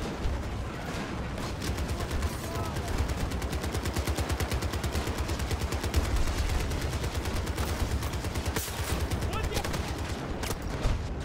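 An M60 machine gun fires in Battlefield 2042 gameplay in long, loud, rapid sustained bursts that continue nearly nonstop, with heavy low booms under the rattle.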